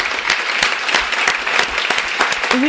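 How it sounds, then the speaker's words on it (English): Audience applause for novelist Catriona Ward after a bookstore author reading, steady dense clapping from a crowd throughout, fairly loud and close. "could we all give a round of applause for Catriona, a wonderful novel?"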